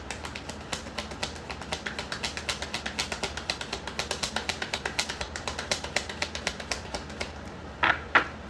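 Tarot cards are shuffled by hand in a steady, even rhythm of crisp close clicks and taps, ending with a couple of louder snaps.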